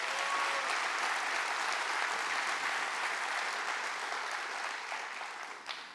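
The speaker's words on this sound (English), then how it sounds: "Clap your hands real big all over this house" Church congregation clapping hands together in dense, loud, steady applause that fills the space, easing slightly toward the end.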